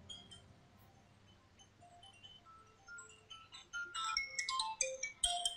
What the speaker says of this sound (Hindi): राहत साहब आपका फोन आ रहा है।